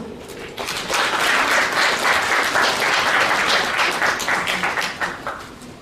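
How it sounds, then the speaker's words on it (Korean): A live audience applauds to welcome a lecturer onto the stage at a Korean disability-awareness training session, a dense, steady round of many hands clapping that swells quickly and fades near the end. "박수 부탁드립니다."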